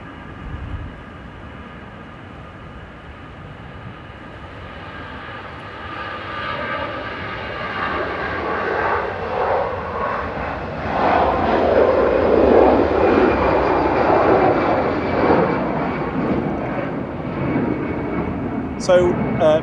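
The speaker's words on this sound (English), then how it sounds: "EasyJet departing now. Heading over to Paris Charles de Gaulle with flight" An EasyJet airliner departs Manchester Airport bound for Paris Charles de Gaulle, its jet engine roar building from a distant hum to a loud sustained swell, with a voice talking over it.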